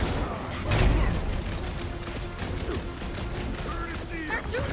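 Gunfire in the action game Marvel's Guardians of the Galaxy makes a rapid, dense burst of shots and impacts with a heavy thump early on, mixed with game effects and voices talking over the fight.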